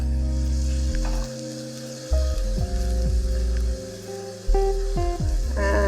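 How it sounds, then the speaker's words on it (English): Cooked rice is stirred in a hot pan to heat it through for fried rice, giving a close, steady sizzle with intermittent spatula scrapes and knocks against the pan. "Just give it a good stir."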